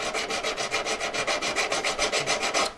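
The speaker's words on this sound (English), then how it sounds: "keep filing, putting weight on the back of the piece as well" Metal V claw piece being filed by hand, a steady run of about sixteen rhythmic rasping strokes, close and fairly loud, stopping abruptly at the end.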